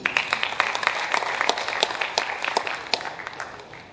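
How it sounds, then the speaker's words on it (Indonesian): An audience at a public anti-corruption event applauds as a finance official is introduced, a close, lively burst of many hands clapping with distinct sharp claps standing out, continuing steadily for a few seconds without speech. "inilah Bapak Dr. Andes Musrim Suwardi, tepuk tangan hadirin."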